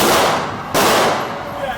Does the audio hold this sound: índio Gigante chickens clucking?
no